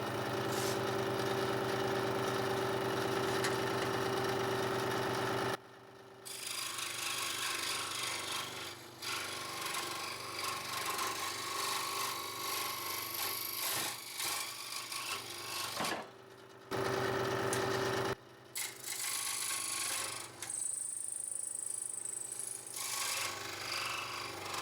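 A power tool cuts along a marked line through a coyote jawbone, a loud continuous grinding rasp that runs for most of the span with two short pauses.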